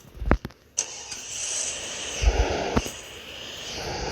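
A car engine in the video game Free Fire, a couple of short thumps and then the engine starting and revving, a rising hum with small surges, heard alone and fairly close.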